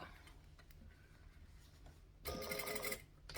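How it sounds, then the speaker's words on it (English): A domestic sewing machine stitching along the boxed corner of a tote bag, a quiet steady patter at first that swells into a louder, faster run of stitching for about a second near the end. "so I can just stitch along here"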